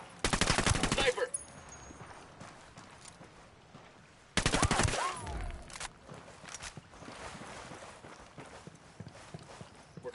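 Sniper and automatic gunfire in the video game Wildlands, two dense bursts of rapid cracking shots separated by quieter stretches of ambient noise and footsteps.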